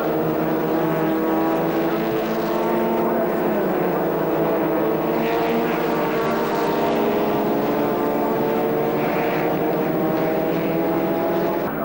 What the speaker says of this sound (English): And in 12th going through there, Matt Brooks.